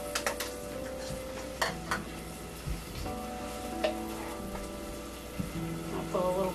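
Shallots tossed into hot oil in a pan give a low sizzle under clinking utensil taps and stirring scrapes, heard up close with faint room noise.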